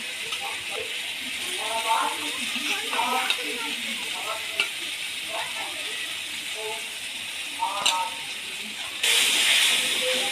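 Spice masala paste dropped into a pan of ginger frying in oil, giving a steady close sizzle and hiss with stirring scrapes throughout, while a person speaks over it.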